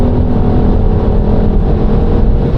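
A BMW X3 M50 accelerating on a winding motorway, a loud steady engine drone with road noise heard from inside the car.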